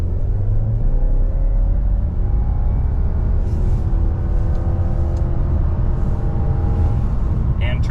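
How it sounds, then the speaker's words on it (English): A Subaru Legacy Turbo Touring XT sedan accelerates hard from 0 to 60 after a brake rev, its engine note climbing steadily through the gears as a loud continuous rumble with a brief shift near the end. "0 to 60 in the Turbo Touring XT Subaru Legacy."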